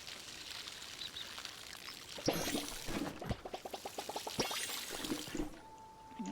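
Watering crops with a watering can in the Palia video game: a pouring, trickling splash runs through the middle stretch with a quick series of light rhythmic taps, set against steady game ambience with faint birdlike chirps.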